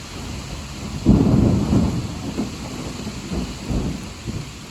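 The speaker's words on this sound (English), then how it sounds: "I can tell by the thunder." Thunder rumbles low and heavy during a severe thunderstorm in Dayton, one strong roll followed by softer grumbles over steady rain and wind noise.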